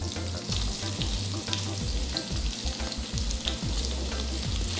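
Onion and garlic fry in fat rendered from calabresa sausage for a cassava broth, a loud continuous sizzle with repeated scraping stirs and clunks of the utensil against the pan close by.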